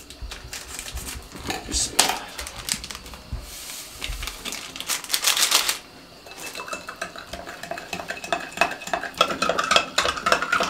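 Fruit chaat being tossed with icing sugar and mango Tang powder in a bowl, busy clinking and scraping of a spoon against the dish in quick irregular bursts, close and fairly loud.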